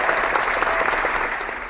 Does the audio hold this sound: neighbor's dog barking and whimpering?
no